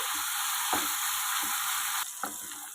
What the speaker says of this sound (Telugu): మధ్య మధ్యలో ఇలా వేయించుకోవాలి